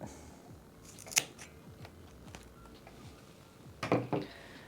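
Sharp snips of scissors or pruning shears cutting a houseplant stem while repotting plants such as monstera, alocasia and anthurium, a single close click followed later by a quick double cut in a quiet room.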